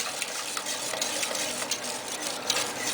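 Thick béchamel for chorizo and goat cheese croquettes being stirred in a pan, a steady scraping swirl with a soft sizzle underneath, close and continuous without any talk.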